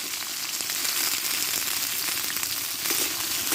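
Mixed vegetables with turmeric powder sauté in hot oil in a pan, a dense, steady close sizzle with a faint crackle that runs without a break.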